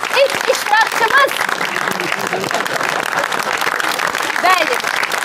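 Studio audience applause welcomes the first contestant on an Azerbaijani comedy talent show, a broad steady clapping wash across the whole stretch, with a host's voice and some whoops rising over it.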